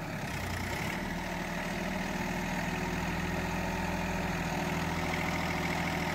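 A 2023 Sonalika DI 35 tractor runs steadily with a 7-foot KSD rotavator attached, a loud, continuous low diesel drone close by with no break and no talking.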